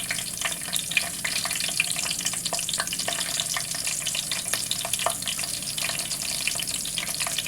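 Chillies fry in oil in a pan for an egg biryani, giving a continuous bright sizzle studded with scattered crackles and pops.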